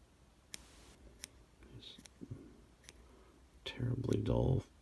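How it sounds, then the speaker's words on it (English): Dull scissors snip bead chain or dubbing at a fly-tying desk, giving several sharp isolated clicks spaced apart, then a louder rustling burst near the end, all close and quiet. "Terribly dull scissors."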